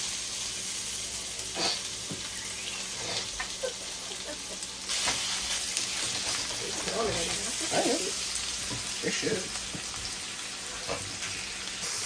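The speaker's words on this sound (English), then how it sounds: "I'm about to fry the meat" Chicken sizzles and hisses steadily in a hot pan, with people talking intermittently over the frying.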